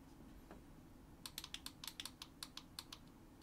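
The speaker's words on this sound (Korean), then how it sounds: "이 정도 세기로 누르면 밖에서는 눌러지지만 안으로 가서는 좀 더 세게 눌러야 된다고" Buttons pressed on an old white Xbox One controller, a run of about a dozen sharp, close plastic clicks in a quick uneven rhythm after a single early click, faint and alone.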